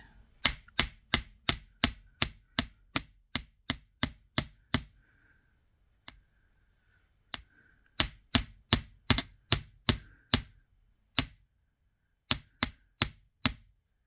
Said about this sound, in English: I'm going to use my chasing hammer because I want to flatten at least down here by this bend.